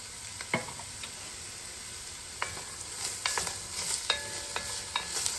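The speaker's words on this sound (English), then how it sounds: "So stir this around until the onions start to get a little bit translucent." Chopped onion and fresh garlic sizzling in a pan while being stirred for a ground beef and Italian sausage pasta sauce, a soft steady fry with scattered scrapes and clinks of the spoon, close with no voices.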